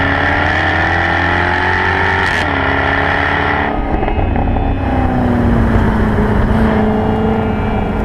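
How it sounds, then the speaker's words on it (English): A Jaguar F-Type V8 roars along a mountain driving road in Romania, its loud engine note holding steady, then dropping as it shifts and rising again under hard acceleration, close and continuous with no talk. "The V8 F-Type has certainly got that."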